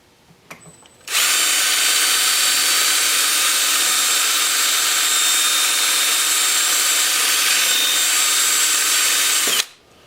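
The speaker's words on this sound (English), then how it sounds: "I got an old sock, and I cut a slit in it and put it on my dowel rod, and we'll see if this is going to work" An old sock slit onto a dowel rod wipes the inside of a wood-turned hollow form, giving a loud, steady rushing friction roar that starts abruptly, holds evenly for about eight seconds, then cuts off.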